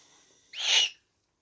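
An eagle owl gives a single close, loud call lasting about half a second, rising sharply then breaking off into silence, over faint background hum.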